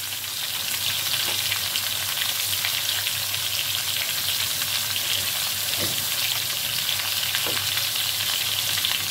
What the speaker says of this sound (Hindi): अभी मैं डाल रही हूँ अदरक लहसुन का पेस्ट एक चम्मच।